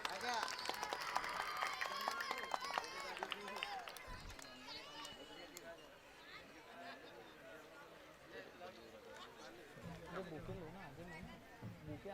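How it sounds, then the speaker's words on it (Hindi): An audience at a mushaira in Muktainagar applauds to welcome a guest. A burst of clapping and crowd noise is strongest at first and then thins out under someone speaking into a microphone. "ज़ोरदार तालियों में इस्तकबाल करें।"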